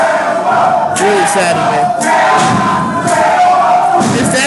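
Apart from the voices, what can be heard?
wrestling crowd cheering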